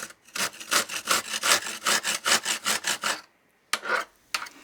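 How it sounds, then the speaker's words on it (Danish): Screwdriver scraping old glue residue out of the door groove of a wood stove, a rapid series of about a dozen rhythmic rasping strokes, close and loud, then a pause and two more short scrapes. "Rens derefter falsen eventuelt med en skruetrækker for at få de sidste limrester af."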